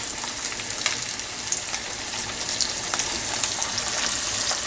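Snapper fillets fry in a hot pan with a steady, close crackling sizzle that holds evenly throughout, with no one speaking.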